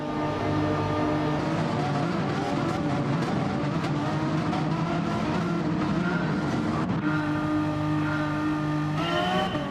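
Race car engines roar continuously around Laguna Seca in a racing video game, a dense, steady engine drone with shifting revs and a sharp pitch change near the end, loud throughout with no talking.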